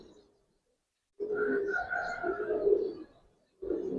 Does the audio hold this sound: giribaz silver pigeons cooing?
yes